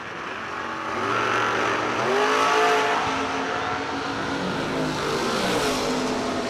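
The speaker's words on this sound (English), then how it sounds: "Doubled up dragsters." Dragsters launch at a drag strip in a $10 grudge-style bracket event. Engines roar and rise in pitch as the cars accelerate away, loud and sustained, then fade slightly into a distant drone.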